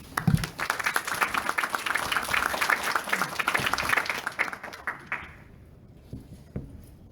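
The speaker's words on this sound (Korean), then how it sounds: "큰 박수를 드리겠습니다" An audience welcoming a lecturer at a talk on advanced technology and future strategy breaks into dense applause, loud and sustained for about five seconds before it thins out to a few last claps.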